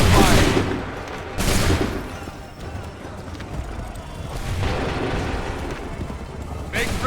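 A musket volley fired by a line of soldiers in Assassin's Creed 3, loud crackling bursts of gunfire that roll into each other, with battlefield clatter and shouted commands among them.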